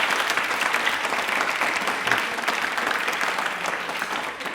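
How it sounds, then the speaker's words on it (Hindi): Loud, continuous applause from a studio audience at an Indian Railway quiz show, a thick wash of clapping holding steady from start to finish. "तालियां प्लीज एक बार जोरदार बजा दीजिए।"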